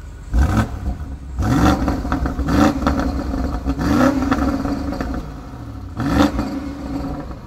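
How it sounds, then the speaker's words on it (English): A 2020 BMW X6 M50i engine revs repeatedly in sharp bursts, rising and falling several times, loud and close with a throaty exhaust note. "So let's do some exhaust time with Lauren."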